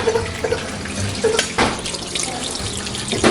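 Hot liquid pours in short bursts, splashing and trickling through a funnel with brief pauses between spurts, during cheesemaking.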